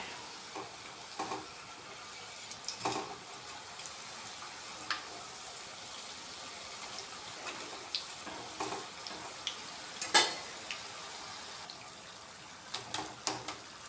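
Rice flour and tomato juice jantikalu frying in a pan of oil, a soft continuous bubbling sizzle with scattered light taps and scrapes as the spirals are turned, fairly quiet throughout.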